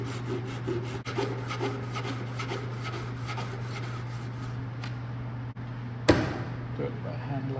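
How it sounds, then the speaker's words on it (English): A hand saw cuts a batch of thin wood strips for a Kumiko panel, giving a steady, close, rasping back-and-forth stroke over a low hum, broken by a couple of sharp knocks near the end. "Now I can go ahead and cut a whole batch of strips at once."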